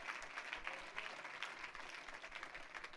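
Faint, distant applause from a church congregation during a Spanish-language sermon, a soft patter of clapping lasting a few seconds.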